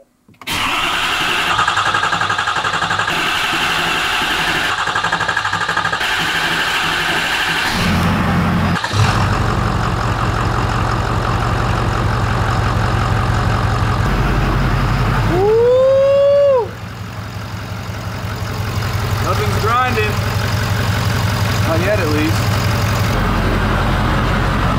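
A Ford 6.7 Powerstroke diesel fitted with a big non-VGT turbo kit and new CP4 pump cranks, fires up and settles into a loud, steady idle, with a rising turbo whistle and a brief rev midway.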